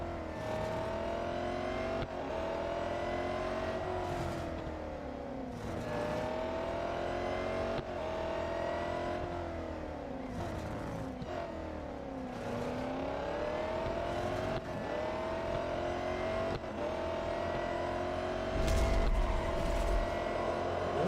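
Engine of a car in the Real Racing 3 mobile racing game, revving and whining steadily throughout with rising and falling pitch sweeps as gears shift, loud and continuous with a brief low thump near the end.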